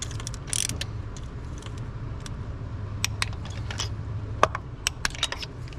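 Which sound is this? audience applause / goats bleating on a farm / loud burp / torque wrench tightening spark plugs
torque wrench tightening spark plugs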